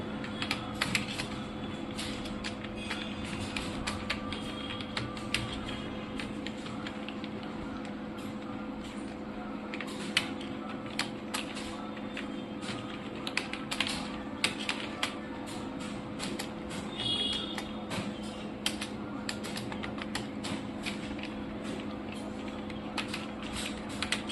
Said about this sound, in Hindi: अब हिंदी में टाइप करना है तो मेरे को हिंदी में टाइप होगा।